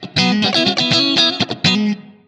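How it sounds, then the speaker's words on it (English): Guitar played through the Blackstar St James amp plugin with reverb in hall and plate modes, strummed chords ringing loud and saturated in a steady rhythm, then a short bright reverb tail fading out at the end. "That to me is the right kind of brightness for a reverb."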